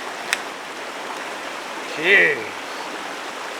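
A creek flows with a steady, continuous rush of water near a campsite, with a short spoken word and a brief rising sound partway through.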